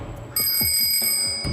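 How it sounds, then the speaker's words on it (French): A bicycle bell rings with a bright sustained metallic tone, a single strike lingering for about a second, close by. "C'est une sonnette, vas-y, essaie-la."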